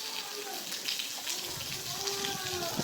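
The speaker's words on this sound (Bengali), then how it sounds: "বৃষ্টির সাথে যদিও বাতাস বেশি হয়েছে, কিন্তু বৃষ্টিও কম হয় নাই" Heavy rain with strong wind, water pooling and pouring on a road, a steady broadband wash of falling rain and wind noise close by throughout, with a few brief higher tones over it.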